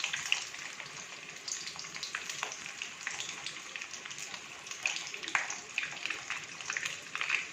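Prawn and pork rolls frying in oil over medium heat, a steady close sizzle with scattered crackles and pops throughout.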